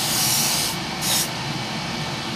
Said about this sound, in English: I'm going to spray mine on the sprue, which I'll show you shortly